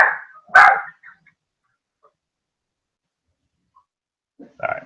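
A dog barks indoors, with one sharp bark, then a long silence, then a second, softer bark.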